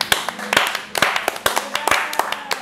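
Hand clapping in an irregular rhythm, about a dozen sharp claps from one or a few people close by, with brief pauses between bursts and light room noise.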